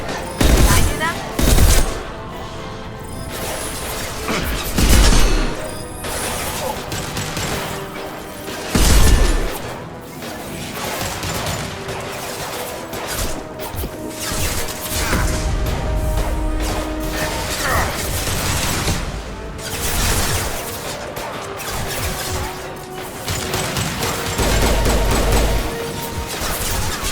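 Weapon fire from a Mass Effect 2 combat sequence, a steady busy mix of shots, impacts and mechanical clatter running the whole time, with several heavier booming bursts and game chatter mixed in.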